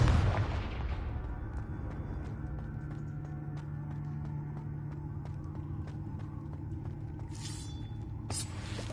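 Confringo blasting spell explosion in Hogwarts Legacy, a heavy boom at the start fading into a rumbling tail with scattered crackles and a brighter burst near the end.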